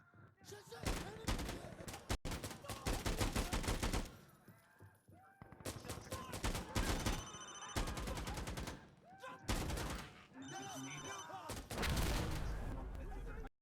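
Rapid bursts of rifle and automatic gunfire in the video game Insurgency Sandstorm come in loud clusters separated by short pauses, with players talking over the shooting.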